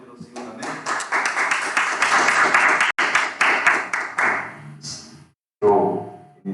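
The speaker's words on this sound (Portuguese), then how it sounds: "Vamos aplaudir ao Senhor, amém?" Church congregation claps together in a dense, steady burst for several seconds, with a short break and then a louder rhythmic thump near the end.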